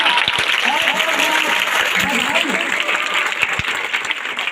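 Audience applause at a school Republic Day celebration, a steady patter of many clapping hands throughout, loud and close, with someone speaking over it.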